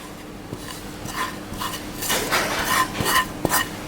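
Mango pickle being mixed by hand with dried chilli, panch phoron, fennel, turmeric and salt in a bowl, making soft rubbing and squelching sounds with occasional clinks, growing louder partway through; nobody speaks.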